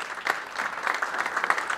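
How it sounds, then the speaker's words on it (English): Brief burst of audience applause at a pre-Super Bowl press conference for a film director, steady dense clapping from a seated crowd lasting under two seconds. "Round of applause,"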